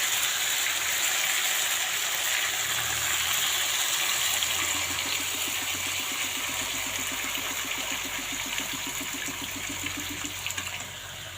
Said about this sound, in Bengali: এখন আমি ওর মধ্যে খানিকটা জল ঢেলে দেবো